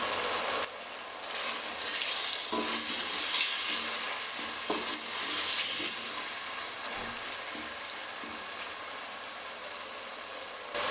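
Ginger, green chillies, coriander and mint are mixed and fried in a pot for a meatless biryani, giving a steady close sizzle with a few soft stirring scrapes and no voices.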